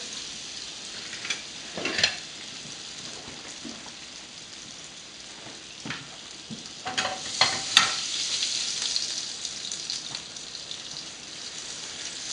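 Rainbow trout frying in a pan of half butter, half olive oil, a steady close crackling sizzle with scattered sharper spits and pops, no voices over it.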